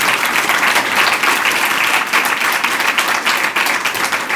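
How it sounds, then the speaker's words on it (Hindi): An audience claps loudly and continuously at a spiritual teaching session, dense applause sustained throughout without a break. "इसमें ताली आपने अच्छे से क्यों नहीं बजाई?"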